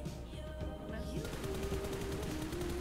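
Gunfire in the mobile video game PUBG Mobile, sustained rapid automatic shots over a busy background with tonal game sounds and a faint voice underneath.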